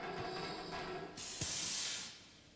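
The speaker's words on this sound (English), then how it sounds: "Okay, that was just steam. Lots of steam down here." Steam hissing in a video game, a steady broadband hiss that surges louder for about a second before easing back, with no one talking over it.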